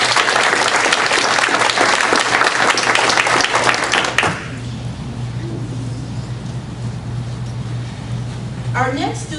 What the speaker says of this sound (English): Let's give all of the students and the parents a round of applause.